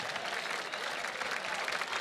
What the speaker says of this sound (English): How about a round of applause to all the new people?